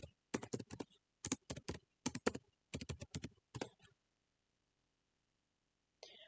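Typing on a computer keyboard during bookkeeping software data entry: several quick bursts of close key clicks over about four seconds, then near silence and a last brief click.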